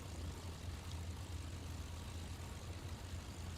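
A small propeller airplane rolls along a runway after landing while braking, a steady low engine drone with airy rushing noise, close and even throughout.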